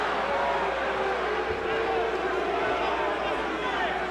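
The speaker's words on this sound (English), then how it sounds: "Crowd beginning to get restless." Murmuring arena crowd at a Mike Tyson versus Jesse Ferguson boxing match keeps up a continuous restless roar, fairly loud and steady, with scattered voices mixed into the din.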